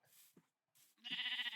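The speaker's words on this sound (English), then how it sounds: "I have found the sheep." In a survival video game, a sheep gives a quiet bleat after two short soft sounds, the bleat holding steady and wavering for about half a second at low volume.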